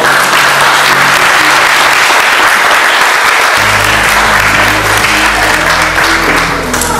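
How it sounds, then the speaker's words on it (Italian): Sustained, dense applause from the audience at the Miss Gilmont 2018 pageant, steady and loud for the whole span, with a low music bed joining midway. "Un applauso!"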